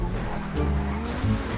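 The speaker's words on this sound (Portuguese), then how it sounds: "Ele tá fazendo drift." A car drifting in GTA V Online, its tires squealing and skidding over a steady engine roar, with a brief burst of extra squeal midway and another near the end.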